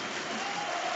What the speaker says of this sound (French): Un adversaire dont le nom est scandé, applaudi